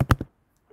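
Three quick, close keystrokes tap on a computer keyboard while meme text is typed, followed by a short silence and a faint final click.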